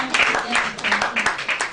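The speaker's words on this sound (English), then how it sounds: "Please give me a round of applause." A short burst of clapping from an audience at a scholarship summit award ceremony, uneven and moderately loud, with voices mixed in among the hand claps.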